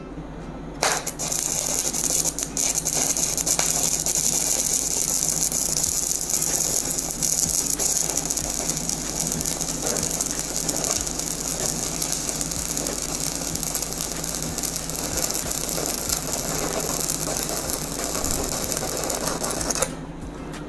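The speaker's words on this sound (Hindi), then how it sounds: "10 number welding electrode 105 arc force 105 पे एम्पेयर पे ट्राई करेंगे, लेयर लगाएंगे" Stick arc welding with a Shakti Technology all-in-one 400 amp welding machine, using a number 10 electrode at 105 amps and arc force 105: a dense, steady crackling buzz holds for about twenty seconds, then cuts off near the end.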